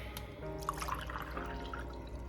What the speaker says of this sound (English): I am gonna use the water from my Brita filter because that's the life that I'm choosing to lead.